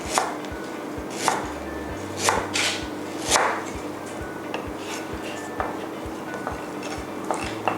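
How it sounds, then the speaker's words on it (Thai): Knife thinly slicing ginger on a cutting board in quick, steady strokes, with occasional louder thuds, close up and without talk. "หั่นนะคะ ให้เป็นชิ้นบางซะก่อนค่ะ"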